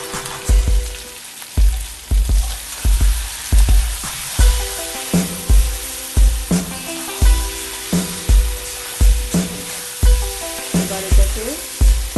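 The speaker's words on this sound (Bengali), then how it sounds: "ভালো করে কষিয়ে নেব।" Spices and salt sauté in a pan with a continuous sizzle, broken by regular scraping stirs of a spatula that repeat roughly every second, close and fairly loud.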